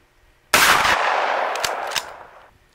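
A single loud, close 12-gauge shotgun blast from a Winchester 2¾-inch 1-ounce slug, fired during chronograph testing. It has a sharp onset and a long ringing decay, followed by a couple of faint clicks.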